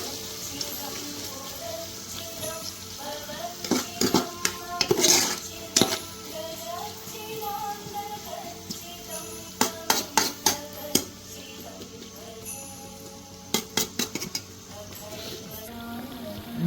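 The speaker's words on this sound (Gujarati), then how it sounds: "ડુંગળી નાખીને પણ મિક્સ કરી દેવાનું સારી રીતે." Chopped onions stirred and fried in a home kitchen pan for a paua dish, a steady low sizzle under scattered metal clinks and scrapes of a spoon against the pan, with faint talk in places.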